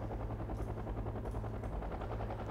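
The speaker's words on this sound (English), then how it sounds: "Gonna land the helicopter" Helicopter in the real-time strategy game Wargame: Red Dragon, setting down for a landing, a steady loud rotor chop and engine drone throughout, alone with no voices.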